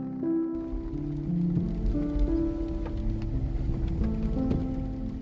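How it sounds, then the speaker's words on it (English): Steady rain falls at a park in Kaeng Krachan, a constant hiss on surfaces, with tonal hums and scattered drips mixed into the wash. "As I passed through the checkpoint into the park, the rain picked up again"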